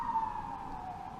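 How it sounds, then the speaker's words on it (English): A siren wails steadily in the distance, a single high tone sliding slowly downward, with no one speaking. "Sorry if you can hear the siren in the background."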